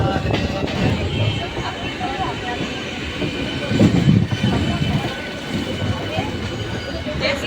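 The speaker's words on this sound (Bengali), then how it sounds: "ফাইনালি ট্রেন ছেড়ে দিয়েছে, এখন আমরা যাচ্ছি লেটস গো" A train rumbles along the rails with a continuous rolling roar and faint clattering, while people talk over the noise.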